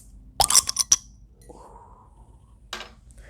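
A glass bottle of Mexican cola is opened: a cluster of bright clinks and a metallic cap snap, then a soft fizzing hiss and one more short clink, close and alone in a quiet room.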